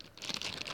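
A plastic bag that held a new pair of shoes crinkles softly in a short, faint burst of crisp rustling.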